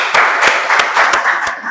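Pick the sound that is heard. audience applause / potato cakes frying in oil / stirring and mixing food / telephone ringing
audience applause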